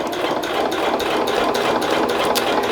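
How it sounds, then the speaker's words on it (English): A sewing machine stitches a rag quilt seam in a fast, even mechanical rattle, close and continuous with no voices. "I'm going to continue to sew."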